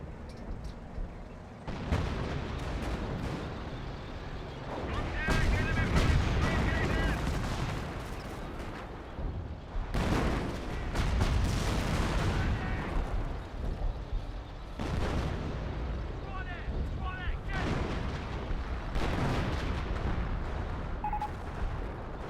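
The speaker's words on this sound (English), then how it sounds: "I think that was a decoy barrage" An artillery barrage in the strategy game Company of Heroes, with dense rolling booms and bursts of gunfire going on throughout, loud and continuous, while someone talks over the battle.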